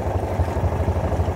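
A Honda outboard engine idles in water, a steady low pulsing rumble with a rapid, even throb and no voices.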